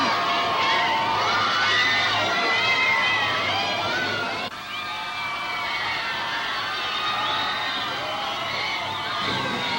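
About 1,500 youngsters packed into a London theater seat, screaming and cheering together in a dense, loud, shrill roar that swells and carries on with a brief dip partway through.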